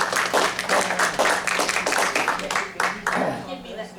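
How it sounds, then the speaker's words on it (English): A church congregation at a New Year's Eve service breaks into steady applause, dense clapping carrying on for several seconds with voices mixed in. "Give me that applause"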